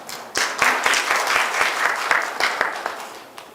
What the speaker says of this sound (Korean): 박미자 교수님의 큰 박수 부탁드립니다